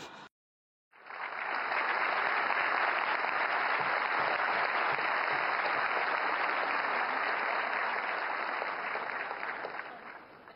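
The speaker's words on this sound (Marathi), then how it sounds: "तेव्हा सभागृहातील उपस्थितांनी जोरदार टाळ्या वाजवल्याचं पाहायला मिळालं" Loud, dense applause from an audience filling a hall in Delhi, starting after a brief pause and holding steady as sustained clapping for about ten seconds.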